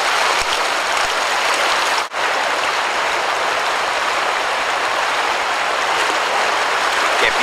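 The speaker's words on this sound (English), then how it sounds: "Heard some water. Thought I'd check it out before I left." A stream of water runs beside a camp on a trip toward the Arctic Circle, giving a steady, close, rushing hiss with one brief dip before the flow resumes unchanged.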